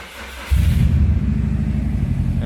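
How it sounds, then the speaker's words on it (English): A Subaru STI widebody with a DCCD fault fires up after a short quiet moment, then settles into a loud, steady low engine rumble that keeps running to the end. "So first off, let's start the car."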